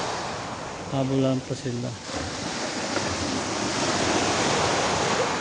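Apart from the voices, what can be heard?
sea waves on the shore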